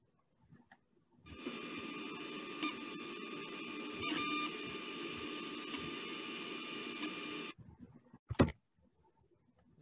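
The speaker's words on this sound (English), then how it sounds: "Here's a video of the 3D printer in action printing using the FRESH method." An open source 3D printer converted into a bioprinter, printing into a gelatin bath, gives off a steady mechanical whir with tonal stepper-motor hums for about six seconds, then stops, followed by a few faint clicks.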